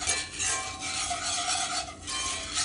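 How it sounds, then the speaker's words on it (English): A whisk stirring creamy cabbage soup in a pot, a steady soft swishing and scraping with rhythmic strokes, fairly faint and close, with no voices. "I'm gonna keep whisking it together"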